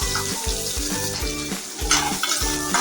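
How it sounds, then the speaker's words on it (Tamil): Garlic and chopped onions fry in hot oil for a bottle gourd chutney, a steady loud sizzle broken by regular scraping stir strokes about every half second, with no voices. "நல்லா எண்ணெயில் ஃப்ரை பண்ணிக்கலாம்"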